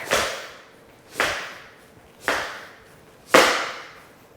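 Four sharp tap dance chug steps on a hard floor, evenly spaced about a second apart, each fading quickly, with no talking.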